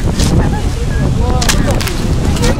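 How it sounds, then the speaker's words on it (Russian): Strong wind buffets the microphone at a Korean ski resort during snowfall, a loud, continuous roar throughout, with voices talking faintly underneath. "Еще ветер сильный."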